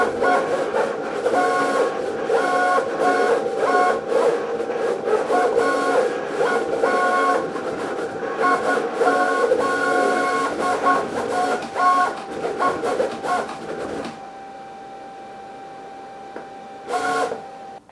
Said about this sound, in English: the Cricut Venture is 3 times faster than the Maker 3 and Explorer 3 models. It cuts up to 25 inches per second.